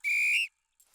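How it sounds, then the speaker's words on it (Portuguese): Whistle blown in a cartoon, one loud, sharp, steady blast of about half a second, followed by silence and a faint rustle. "Vocês sabem o que esse apito significa."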